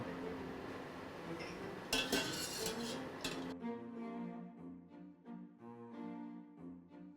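Cooked potatoes scooped out onto a rack, metal utensil clinks and scrapes against a pot over a bubbling background, with short clattery knocks; no speech.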